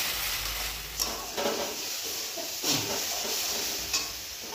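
Onion and garlic with turmeric and salt are stir-fried in a pan, a soft, steady sizzle with a few scraping strokes of the spoon every second or so, fairly quiet and without talk.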